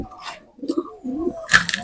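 Pigeons coo nearby in soft, throaty bursts, with a brief flutter or scuffle near the end.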